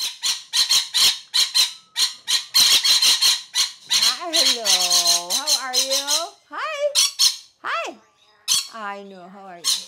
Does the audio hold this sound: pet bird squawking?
yes